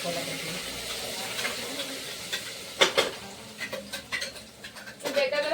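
Onion, tomato, coriander and mint masala frying in oil in a pan, a soft sizzle with scattered scraping and stirring knocks close by.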